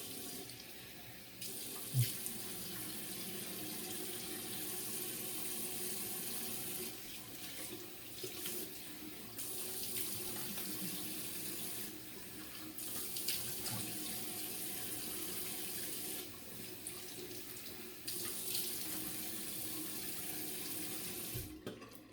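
Water runs steadily from a sink tap while rinsing after a shave, a quiet continuous splash with slight shifts in flow and no voices.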